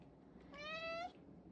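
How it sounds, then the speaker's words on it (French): A cat gives a single clear meow, close and distinct, rising slightly over a soft quiet room background. "il y a un chat qui voulait vous dire allô"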